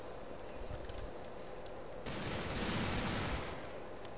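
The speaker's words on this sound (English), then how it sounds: "So you shoot in a circle" Rapid gunfire in the Garry's Mod video game as the player shoots in a circle: a dense, loud burst of shots lasting over a second, rising over a quieter background rumble.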